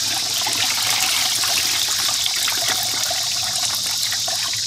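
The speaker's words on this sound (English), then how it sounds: "the water's coming up through the spout like I thought it would" Water gushes steadily up through the spout of an improvised, hand-built washing machine, a continuous close splashing and trickling rush that stays even and loud throughout with no talk.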